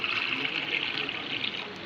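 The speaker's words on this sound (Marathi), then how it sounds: "त्याच वाटीनं आपल्याला चार वाटी पाणी घालायचं आहे" Steady stream of water pouring continuously into a pot of wheat, a bright even trickle close by with no pauses and no voices.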